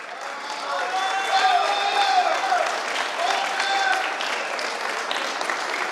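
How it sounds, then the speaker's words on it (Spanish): Loud, steady applause from a crowd at a queen-election event in a reception hall, continuous for several seconds, with a musical tone and a voice over it. "Aplauso para el número"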